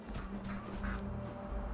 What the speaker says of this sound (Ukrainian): де ці гуси, качки, де вони тут рякають